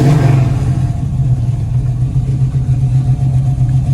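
V8 engine of a 1969 Chevrolet Nova SS396 running after start-up, a loud, deep, rumbling idle with a slight rev at the beginning, heard close and steady with no speech.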